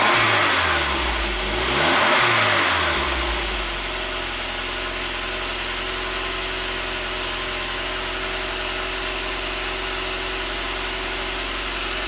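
A 1993 Saab 9000 CSE Turbo engine revs briefly, then settles into a steady raised idle with a constant low hum and drone, close and loud, no voices.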